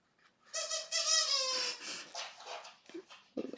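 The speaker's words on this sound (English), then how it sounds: "He is annoying little dog." A small dog whimpers and whines in high, drawn-out squeaky cries indoors, close by and fairly loud, followed by a few shorter yelps and soft shuffling noises.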